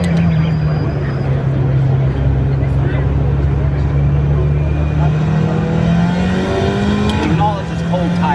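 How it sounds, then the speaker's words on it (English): A car engine is held at full throttle on a race track, a loud steady drone rising slowly in pitch and easing near the end, with people talking over it. "Just pin it, Zach. Pin it to win it, dude. When in doubt, throttle out"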